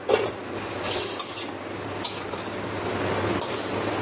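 A lid comes off a pot of rice simmering for a fish-head muri ghonto, letting out a steady close hiss and bubbling with a few light metallic clinks.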